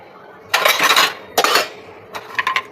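Dishes, pots and cutlery being put away in a home kitchen, with close, loud clattering and clinking in several bursts, ending in lighter metallic clinks.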